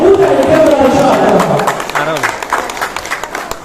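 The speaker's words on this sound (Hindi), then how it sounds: "जोरदार तालियों के साथ स्वागत कीजिए जनाब उदय देवराचार्य" Applause from an audience welcoming a speaker at a hall gathering. Dense clapping and crowd noise are loud at first and then thin out into scattered individual claps.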